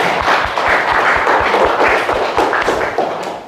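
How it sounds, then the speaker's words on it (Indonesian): A classroom of pupils claps together in a brief round of applause, with rhythmic thumping hits underneath, close and fairly loud. "Tepuk tangan untuk kita semua,"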